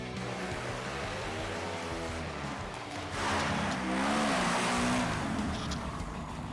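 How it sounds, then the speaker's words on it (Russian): A home-built buggy modelled on the Ramp buggy from GTA 5, fitted with a new muffler, has its engine warming up. A steady, fairly quiet rumble idles on, then swells briefly in the middle before settling again. Nobody speaks. "теперь можно прогревать двигатель и отправляться на тест опрокидывания"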